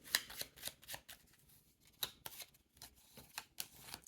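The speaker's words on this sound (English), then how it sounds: "they're going to get a shuffle" A bot's card deck for a board game being shuffled by hand, a quiet series of short riffling bursts and soft snaps spread over a few seconds, close and without talk.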